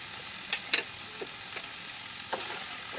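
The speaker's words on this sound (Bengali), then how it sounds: "হতে থাক, কষানো হয়ে যাক আমার, এখনো একটু কষবে" Pumpkin, potato and jackfruit seed curry sautéing in a pan, a faint low sizzle broken by a few soft stirring clicks and scrapes, with no one talking.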